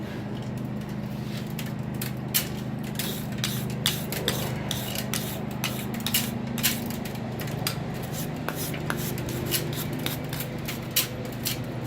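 Steady scratchy brushing across hot forged rail spike metal at black heat, with repeated rasping strokes over a constant low rumbling hum.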